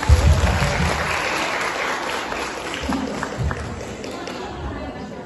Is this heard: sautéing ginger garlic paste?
no